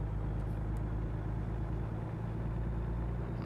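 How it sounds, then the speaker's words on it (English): A truck engine idles in American Truck Simulator, a steady low rumbling drone with even hum, alone and unbroken throughout. "The truck engine's going to cut out at some point soon."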